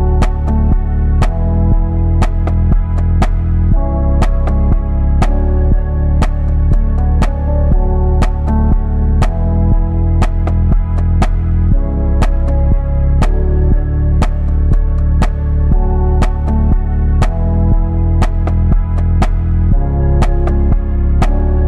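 Lo-fi mellotron-style chords processed with a bit crusher play a song chorus, loud and sustained, with regular rhythmic percussive hits cutting through the dense, steady texture throughout.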